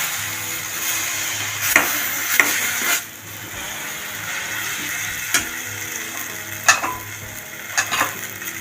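Ginger garlic paste with green chillies sautéing in a pan for paneer butter masala, a steady soft sizzle broken by a few sharp scraping strokes of a spoon stirring against the pan.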